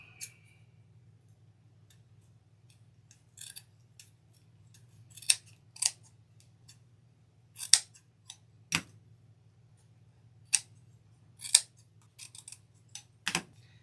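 Sharp scissors snip through burlap wreath tails in a dozen separate crisp cuts spread irregularly across the stretch, each a brief bright crunch over a steady low hum, with no talking.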